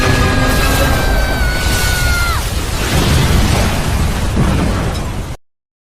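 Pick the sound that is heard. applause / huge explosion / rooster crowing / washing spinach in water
huge explosion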